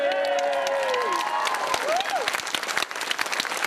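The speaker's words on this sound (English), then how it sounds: "they're cheering because they only had to listen for 30 seconds" A live audience at a Red Dwarf Q&A bursts into loud, dense applause and cheering, close and continuous, with whoops and voices rising over the clapping.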